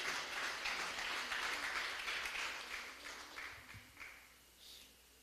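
A church congregation claps in applause, moderately loud at first and tapering off into scattered claps and quieter room sound.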